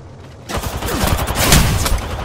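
Sudden volley of gunfire aimed at the player in Apex Legends: a quiet moment breaks into loud, rapid overlapping shots and impacts that keep hammering for the rest of the moment.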